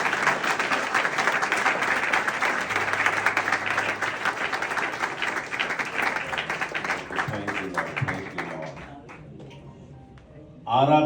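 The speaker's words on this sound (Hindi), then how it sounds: "मैं चाहता हूँ कि आगे में सभी लोग जोर से ताली दें।" A church congregation at a Dubai praise and worship service bursts into loud, sustained applause, dense clapping from many hands that gradually thins and fades toward the end.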